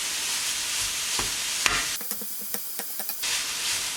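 Mince for gozleme frying in a pan as it is broken up: a continuous loud sizzle with scraping stirs and a few soft taps of the utensil, dipping briefly before the sizzle returns at full strength.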